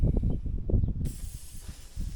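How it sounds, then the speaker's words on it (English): A spray paint can hissing as it coats a homemade bass fishing bait, a steady close spray that starts partway through after a stretch of low rumbling, with no talking. "Empty our spray can"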